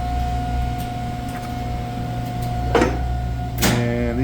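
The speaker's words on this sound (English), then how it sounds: "We have a chance to see this elevator run." A gearless traction machine driving a high-rise elevator, a steady low electrical hum with a constant tonal whine, broken by a couple of sharp mechanical clunks and clicks near the end.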